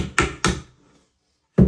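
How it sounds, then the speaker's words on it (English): Three sharp wooden knocks from a hammer on a floorboard while driving nails out, two in quick succession and a third after a short pause, close and loud with no talk. "Knock the nails out."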